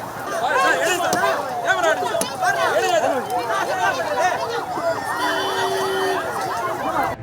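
Ambulance siren wailing in a crowded Chennai street scene near the Marina, its rising and falling tone continuous across the clip, mixed with loud crowd chatter and voices throughout.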